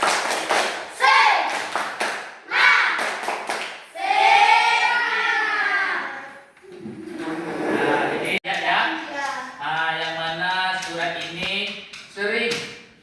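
A group chants in unison in an Indonesian classroom, punctuated by bursts of rhythmic clapping, with sung voices filling the gaps between the claps.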